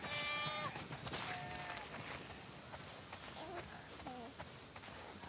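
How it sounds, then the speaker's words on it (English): Many sheep in a barn in The Last of Us Part II bleat repeatedly, overlapping one another, with a steady bed of flock noise and shuffling underneath. "Wow, that's a lot of sheep."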